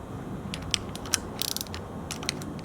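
A ratchet tightens a chain tensioner on a build, giving a few sharp, close clicks spaced irregularly, with a short rapid burst in the middle, over a quiet background and no talking.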